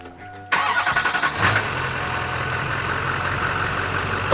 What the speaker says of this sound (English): I'll go ahead and fire it up because I want to hear you guys hear this thing run